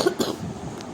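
A person coughs a couple of times in quick succession, short and close, followed by a faint breathy tail.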